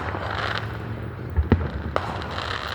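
Fourth of July fireworks exploding at a distance, two dull booms close together followed by a third fainter pop over a low steady background murmur.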